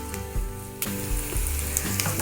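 Onion, ginger and garlic fry in hot oil over a full gas flame for a brinjal chutney, a steady close sizzle with a few stirring scrapes and taps.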